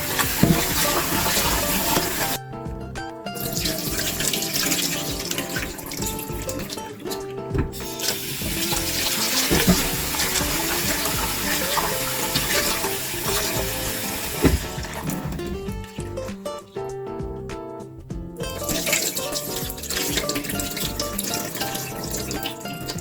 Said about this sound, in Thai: เราก็เอามาล้างค่ะสักสองสามรอบนะคะ